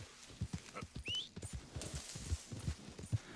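A horse walks in a video game, its hooves clip-clopping in a steady, uneven patter of soft knocks close by, with a brief whistling chirp partway through.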